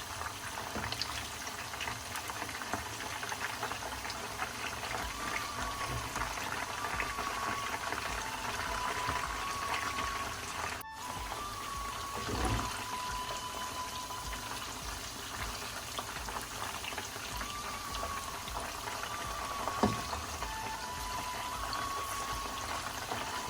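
Besan-coated fish pakora frying on low heat in a pan, a steady, continuous bubbling sizzle of hot oil that runs unbroken throughout, with faint clinks and no talking.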